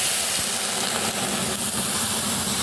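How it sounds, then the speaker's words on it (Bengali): Milk poured into a pan of fried vermicelli (semai), a steady loud hissing sizzle with continuous bubbling and no talk. "এবার এখানে আমি দুধ ঢেলে দেবো।"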